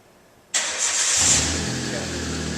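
A car drives onto a four post vehicle hoist: an engine starts abruptly and then runs steadily at a low idle rumble, loud and close.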